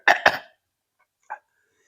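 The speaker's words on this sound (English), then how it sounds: "pardon my cough" A close cough in two quick harsh bursts, followed after a pause by a single softer, shorter cough against silence.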